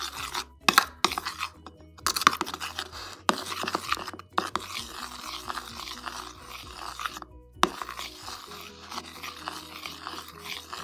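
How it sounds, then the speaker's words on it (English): Soap mixture and sugar being stirred together in a bowl, a close, gritty scraping and rasping with irregular crunchy strokes and brief pauses, gentle and uneven in rhythm. "I'm going to add the sugar into my soap mixture, and I'm just going to mix it up"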